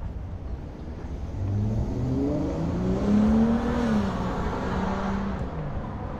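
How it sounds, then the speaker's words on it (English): A Dodge Challenger or Charger muscle car drives past an empty mall parking lot, its engine revving and rising in pitch as it passes, loud and near, heard outdoors while walking. "Another muscle car, a Challenger or a Charger."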